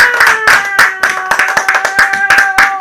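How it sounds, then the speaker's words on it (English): At a pub quiz in Milton Hall, a few people clap for the winning ladies' team, with distinct, loud, fairly regular claps close by over a faint sustained tone. "Give them a big round of applause."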